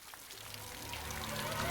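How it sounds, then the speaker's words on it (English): Rain falling steadily inside a prison cell in the Call of Cthulhu video game, a continuous wet hiss that builds slightly in loudness, with a low droning ambience beneath it. "Why is it raining in my cell?"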